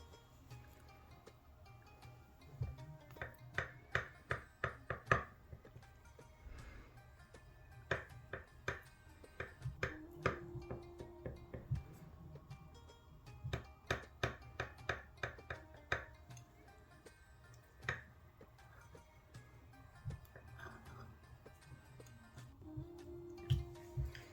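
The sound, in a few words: knife cutting a chilled rasmalai cake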